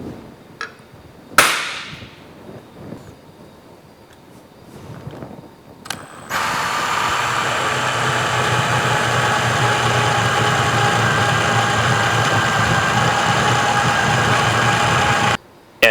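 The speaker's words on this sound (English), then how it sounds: "make sure you are drilling with the drill perpendicular to the workpiece" A few quiet clicks and a sharp tap, then a cordless drill starts and whirs steadily at close range for about nine seconds before stopping.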